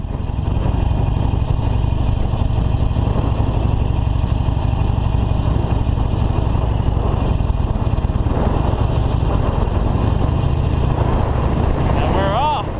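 A Harley-Davidson 48 motorcycle idles at a gas station in Newburgh on the season's first ride, a loud steady low engine rumble running throughout, with a brief rising rev near the end.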